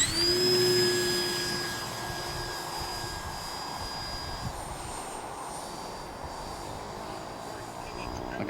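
Simulated airplane engine in a flight simulator game during a landing attempt, a steady droning whine with tonal harmonics, loudest at the start then easing to a continuous hum.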